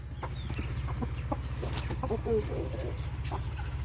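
Chickens cluck faintly and sporadically over a steady low mechanical hum, with a few brief voices nearby.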